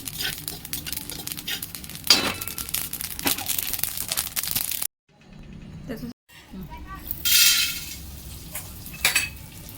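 Sesame and flax seeds roast in a pan and are stirred constantly, giving soft scraping and light crackling close by, with brief pauses and faint clinks; no one is talking.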